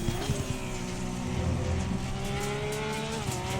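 Race car engine in Assetto Corsa Competizione held at full throttle, a steady, loud droning roar with rising harmonic tones that climb slowly as it accelerates, running continuously with no talk.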